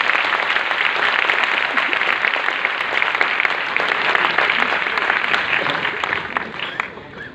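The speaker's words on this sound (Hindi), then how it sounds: "एक जोरदार तालियां इन सभी लोगों के लिए हो जाए" Loud, dense applause from a large audience at a Mi Lifestyle motivational event, honouring mentors and top leaders; steady clapping for about seven seconds that thins slightly at the end.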